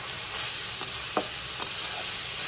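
Chowmein ingredients with scrambled egg and green chili fry in a home kitchen pan, giving a steady broadband sizzle with a few soft stirring scrapes and no one talking.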